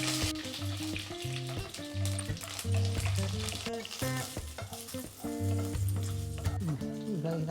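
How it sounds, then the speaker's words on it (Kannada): Five dried red chillies fry in hot oil in a home kitchen, a continuous close sizzle broken by repeated stirring scrapes. "ಈಗ 5 ಮೆಣಸಿನ್ಕಾಯಿನ ನಾನು ಎಣ್ಣೆಯಲ್ಲಿ ಹುರ್ಕೊಳ್ತೀನಿ."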